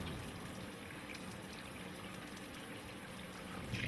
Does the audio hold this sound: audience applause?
no